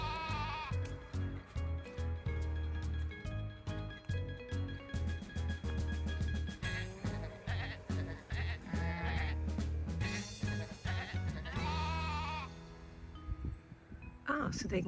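Sheep and goats bleat repeatedly near a shed on a farm, loud and close, a busy chorus of overlapping calls with occasional voices mixed in.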